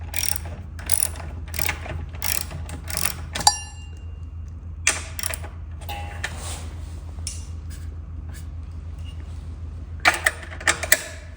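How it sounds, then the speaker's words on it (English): A ratchet strap is cranked to cinch down a vintage go-kart motor in a garage, giving bursts of quick, close mechanical clicking spread across the clip with a steady low hum beneath and quieter pauses between. "Just gonna cinch down the motor a bit so we can move it around the garage"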